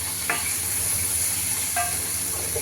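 Sweet pumpkin slices frying in a rice cooker, a constant soft sizzle with two brief metallic clinks of a utensil stirring.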